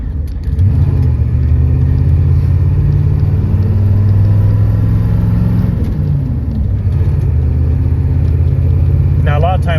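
A 1989 Ford F350 pickup with the 7.3L diesel engine accelerates hard on the road, giving a loud, steady low rumble and roar that builds and holds for the full stretch, with a brief dip midway.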